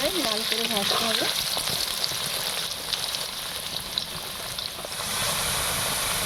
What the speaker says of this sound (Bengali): এটা ভালো করে লাল করে ভাজতে হবে